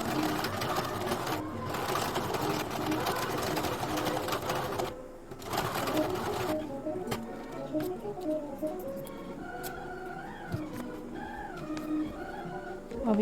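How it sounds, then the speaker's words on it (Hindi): A sewing machine runs while stitching a strip on a deep-neck princess-cut blouse, a fast steady mechanical whirring for several seconds that stops and gives way to quieter handling sounds, with faint birds chirping in the background. "अब यहाँ भी एक स्टिच लगाकर सीधा कर लेनी है पट्टी को"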